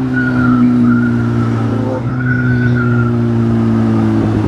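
A car engine hums steadily at close range while driving, with a constant low drone, occasional faint tire or road whine rising and falling, and a brief dip around the two-second mark.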